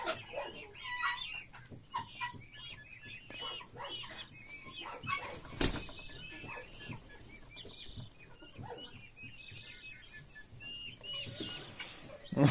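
A rooster warms chicks in a coop: soft clucks and high cheeping peeps scatter through quiet surroundings, fairly close, with occasional light bumps.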